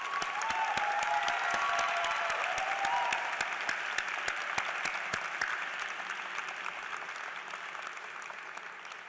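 An audience at a CMU-Q graduation ceremony applauds the graduates' families, a sustained, even wash of many clapping hands filling a large hall, tapering slightly toward the end.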